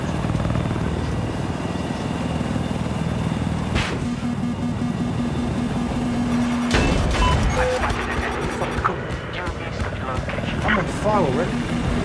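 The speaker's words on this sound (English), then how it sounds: "Now we've got the Apache." An Apache attack helicopter flies in a video game, its rotor a steady loud drone with a few sharper bursts over it, while people talk throughout.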